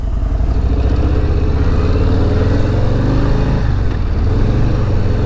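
A Harley-Davidson motorcycle with a 117 engine accelerates hard on a test ride, its loud, close exhaust roar climbing in pitch, dipping briefly at a gear change, then pulling again.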